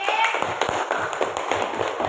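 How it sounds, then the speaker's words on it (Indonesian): Classroom applause for a student group that has just presented: a dense, steady patter of many hands clapping at moderate loudness, with scattered sharper claps and faint voices mixed in. "Beri tepuk tangan untuk kelompok D."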